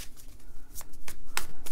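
A deck of tarot cards is shuffled close by, producing a quick run of rhythmic riffling bursts and soft slaps over under two seconds, with no talk.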